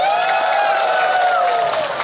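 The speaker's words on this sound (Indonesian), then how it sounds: "Tepuk tangannya dong" An audience at a live entertainment show in Tanah Bumbu, South Kalimantan, applauds and cheers: a broad crowd roar with a long, sustained voice soaring over it, loud and close.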